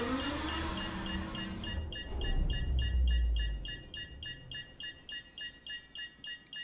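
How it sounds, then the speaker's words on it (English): A repeating electronic beep like an alarm clock starts partway through, sounding in an even, steady rhythm after a burst of louder rumbling noise, fairly prominent and with no talk over it. "Go stop this annoying beeping sound."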